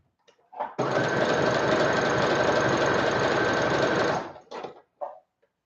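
A sewing machine runs a single continuous burst of about three and a half seconds on a Harley Quinn costume seam, a loud, dense mechanical whir that starts and stops abruptly, with a few small clicks on either side.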